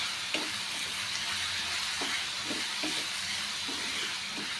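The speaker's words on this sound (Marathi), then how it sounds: "आता यामध्ये आपण थोडासा कढीपत्ता टाकूया। तर मस्तपैकी थोडंसं परतून घेऊया।" Curry leaves sautéing in hot oil in a pan, a soft continuous sizzle and hiss with occasional light stirring taps, fairly faint and even throughout.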